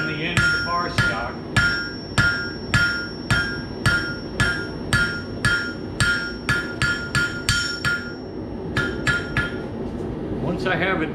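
A 20-ounce cross peen hammer forging square bar stock on an anvil, drawing a point: loud ringing metallic blows in a steady rhythm, about two per second, with a brief pause near the end, heard close.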